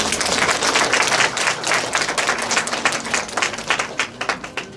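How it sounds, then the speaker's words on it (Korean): Loud, sustained applause from an audience at a 2012 send-off ceremony in Tongyeong, a dense wash of many hands clapping that gradually thins into more separate claps toward the end. "일본 기타 교실로 떠나는 브릿지 팀에게 큰 박수 부탁드립니다."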